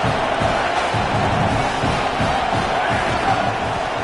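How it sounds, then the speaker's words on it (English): Stadium crowd in an NCAA college football video game roaring loudly and continuously, a dense wash of cheering and yelling with rhythmic surges throughout. "this crowd is turning it up a notch"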